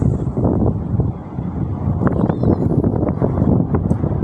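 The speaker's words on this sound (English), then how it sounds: "It's a little windy." Wind buffets the microphone outdoors with a steady, loud rush that rises in gusts throughout, with no talking.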